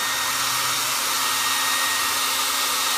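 A blow dryer roars steadily at close range, drying a bronzed patina finish, a loud continuous airy whine with no pauses.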